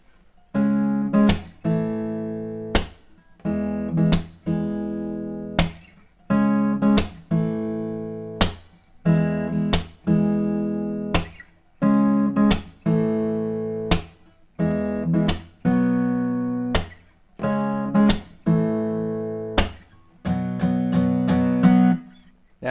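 A song's pre-chorus strummed on an acoustic guitar, bright chords in repeated rhythmic strums and down-strokes, close and steady throughout with no talking.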